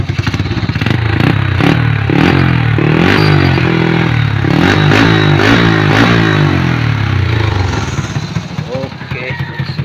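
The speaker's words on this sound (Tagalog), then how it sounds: "Andar sa motor." A motorcycle engine revs hard while being ridden, its rising and falling pitch loud and close for most of the run before easing near the end. Other sounds clatter and scrape faintly underneath.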